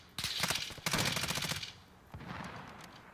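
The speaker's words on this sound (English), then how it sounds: "God damn it, why are we shooting?" Automatic gunfire in Call of Duty: Warzone, two rapid bursts of rattling shots in close succession, followed by a quieter, more distant volley, with no voices.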